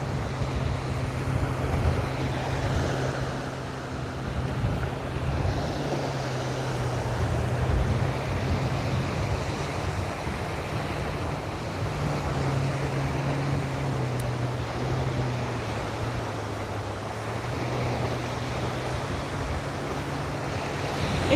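Steady ocean surf washing onto a beach, a continuous broad roar with slow swells rising and falling, plus some wind rumble on the microphone and no voices.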